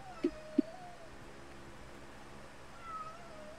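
Two short, quiet meows from a cat about to give birth in quick succession, then a faint drawn-out cry later, against a low background hum.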